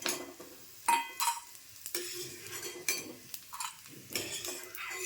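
Roasted edible gum being scooped from a pan while making green moong and jaggery laddoos: quiet scraping and stirring with a few sharp clinks of a utensil on the pan, close and intermittent.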